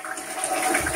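A portable RV toilet flushes after its small push-down handle is pressed, giving a steady, close rush of water that swells slightly and runs for about a second.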